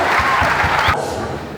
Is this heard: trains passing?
no